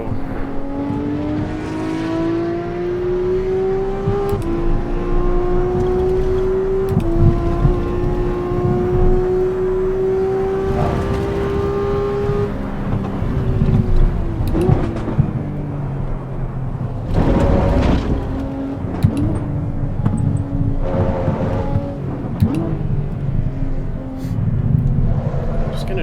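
A race car in Assetto Corsa EVO on the Nürburgring, its engine droning and shifting pitch steadily while a faster car closes from behind and passes, with brief louder surges near the end.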